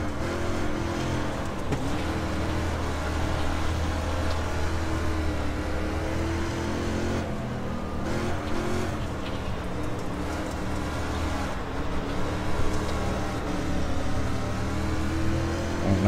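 Race car engine in the iRacing dirt street stock video game at Lanier National Speedway, a loud, steady droning roar with rising and falling revs throughout, no talking.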